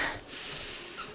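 A deep inhale taken mid-workout during treadmill speed intervals, a single broad airy breath about a second long, close to the microphone and fairly quiet, with no talking over it.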